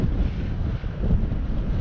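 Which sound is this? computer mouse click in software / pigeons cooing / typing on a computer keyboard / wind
wind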